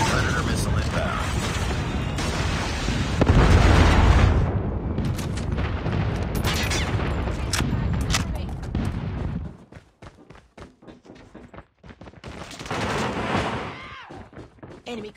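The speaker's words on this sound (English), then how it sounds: "Friendly airstrike incoming. Predator missile inbound." Airstrike and predator missile explosions in the Call of Duty Mobile video game, heavy booming blasts and gunfire thundering loudly through the first ten seconds, then scattered bursts and a final rumble, with game voice callouts mixed in.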